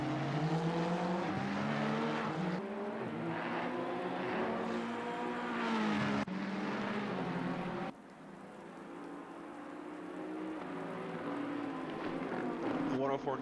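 Race cars circulate continuously during the 4 Hours of Zolder endurance race, engines droning at steady volume throughout with shifting pitch, partly blended with rain-like hiss and a commentator talking over it.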